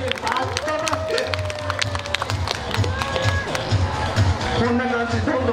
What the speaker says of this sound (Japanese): さあ皆さん拍手お願いします